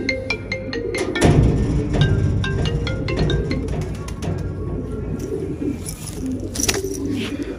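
Soft pigeon cooing repeats close by, with a few higher bird chirps and some background rustling throughout.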